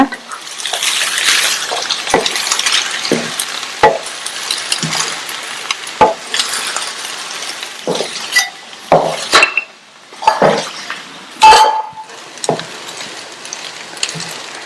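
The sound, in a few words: stirring cabbage rice in a pan on low flame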